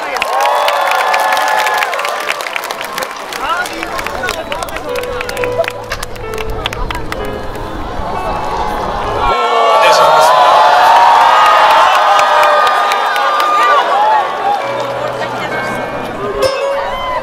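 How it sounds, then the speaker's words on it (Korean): A festival concert crowd at Busan's North Port waterfront park cheers and applauds loudly as a singer takes the stage, sustained clapping and shouting over a live announcer's voice. "여러분 뜨거운 박수로 맞아주십시오."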